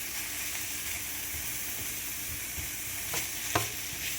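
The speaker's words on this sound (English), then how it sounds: "I sliced up sirloin beef so that we can saute it" Sliced sirloin beef and onions saute for beef stroganoff, giving a continuous even sizzle up close with a couple of short scraping stirs near the end.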